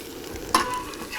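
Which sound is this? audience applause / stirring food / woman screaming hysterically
stirring food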